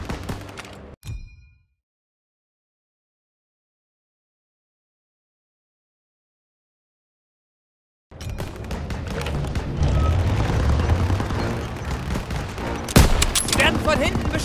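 Gunfire from Call of Duty WWII combat, sustained volleys and bursts after a long silent gap, loud and dense with a sharp blast near the end.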